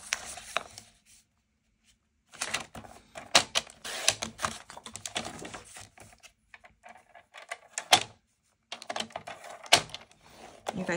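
Cardstock being cut down for a mini album flap, heard as a run of crisp, close slicing and snipping bursts with short pauses between them and no talking.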